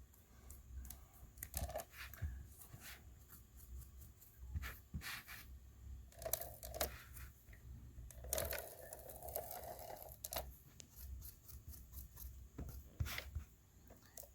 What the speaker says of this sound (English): So first we're going to tape this right here.